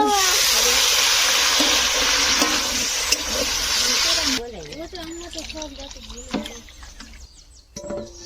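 Water poured into a cooking pot of potato and papaya curry for rohu fish, making a loud, steady hissing rush for about four seconds. It then cuts off and a voice talks over quieter cooking noise.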